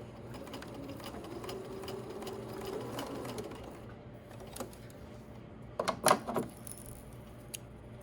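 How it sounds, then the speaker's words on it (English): A sewing machine hums and whirs as it backstitches across the top of a centered zipper, then stops; a few mechanical clicks and clunks follow near the end. "And we're going to finish it with a backstitch."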